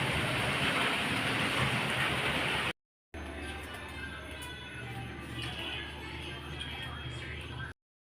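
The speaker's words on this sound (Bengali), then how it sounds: "বাইরে বৃষ্টি পড়ছে" Rain falling outside, a dense, steady hiss of drops that continues unbroken, cut off briefly by a short silence and then resuming with a slightly different tone, close and fairly loud.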